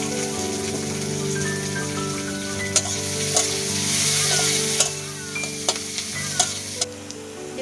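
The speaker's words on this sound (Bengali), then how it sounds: "তেল দিয়ে দিয়েছি, আবার এর মধ্যে 5 ফোড়ন দিয়ে দিলাম। এবার এর মধ্যে পেঁয়াজ কুচি দিয়ে দিলাম আর কতগুলো গোটা রসুন।" Chopped onion and whole garlic cloves frying in oil with five-spice seeds, a continuous crackling sizzle with occasional sharp pops and spatula taps over a steady hum.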